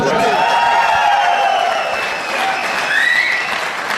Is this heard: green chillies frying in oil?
no